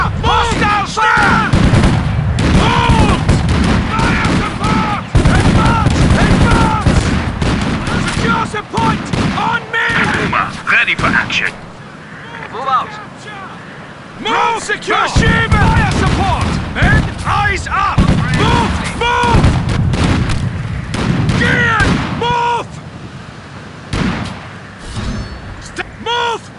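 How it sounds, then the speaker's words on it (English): Rapid bursts of small arms gunfire in a military video game crackle through most of the stretch, mixed with heavy artillery-like booms and frequent shouted voices, briefly thinning out around the middle before the shooting resumes. "Taking small arms fire!"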